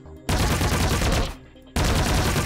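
SMG gunfire in a video game: two long bursts of rapid automatic shots, loud and close, separated by a short pause.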